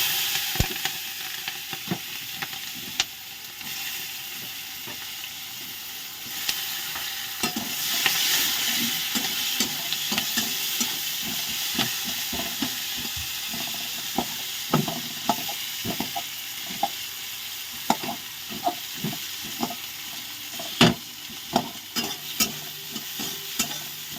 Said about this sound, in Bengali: তেলের ওপর পেঁয়াজগুলো দিয়ে দেবো, পেঁয়াজ আর লঙ্কা